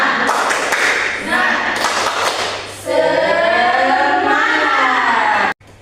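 Children at school clap a rhythmic spirit cheer in unison, a series of sharp group claps mixed with their chanting voices, loud and close before falling silent at the end.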